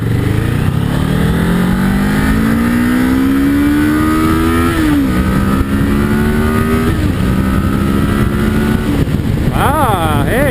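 A 2012 Kawasaki Ninja 650 engine revs up through the gears, its pitch rising, dropping at shifts, then climbing again, loud and close, with induction noise.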